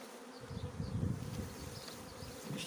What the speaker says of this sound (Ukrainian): Зразу на 10 рамок струшую його, тому що такий рій монструозний